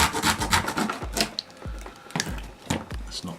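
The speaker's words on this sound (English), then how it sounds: "A little bit of sanding, that's not too bad at all." A hand sanding a cut piece of wood while building a prop blaster from junk parts, heard as short rasping strokes repeated in an irregular rhythm, close and moderately loud.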